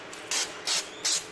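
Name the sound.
brake cleaner spray on a new brake rotor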